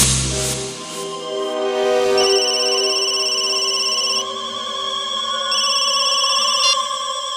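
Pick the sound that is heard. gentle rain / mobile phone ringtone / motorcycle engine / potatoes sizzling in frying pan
mobile phone ringtone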